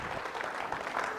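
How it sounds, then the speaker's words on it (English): Brief, fairly quiet burst of audience applause for a keynote speaker at a tech conference, a dense, even patter of many hands clapping. "Let's give a big round of applause for Mr. Sanjeev Sharma, everyone"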